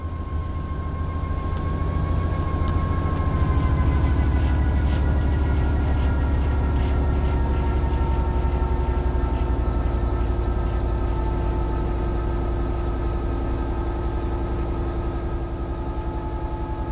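A simulated train in Train Sim World 3 on Steam Deck rolls along with a steady, droning engine hum and faint tonal whine, continuous and unchanging, with no voices.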